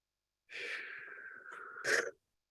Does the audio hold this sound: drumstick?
no